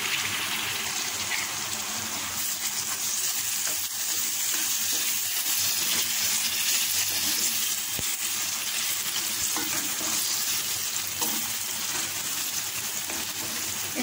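Tomatoes added to a bitter gourd mince filling frying in a pan, giving a dense, continuous hissing sizzle that stays even and fairly loud from start to finish.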